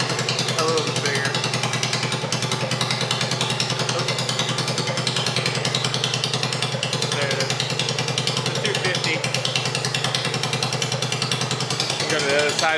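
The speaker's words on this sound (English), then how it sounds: "I fired up the engine with this straight pipe so you can hear what it sounds like." A Zongshen 250 motorcycle engine runs with only a straight header pipe, a loud, rapid, harsh staccato putter, steady and close for the whole stretch with no talk over it.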